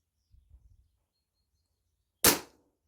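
A single sharp air rifle shot from a Daystate Alphawolf cracks loudly up close after a few faint low thumps, with wind outdoors and no voices.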